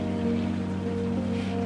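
Steady rain patters on a car during a journey near Cambridge in the video game South of the Circle, a constant wash of drops over a low, even engine hum with no pauses.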